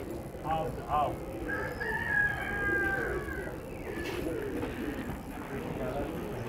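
A flock of desi pigeons set loose into the air, their calls rising in short, near bursts over a steady outdoor hiss, with a faint voice in the background.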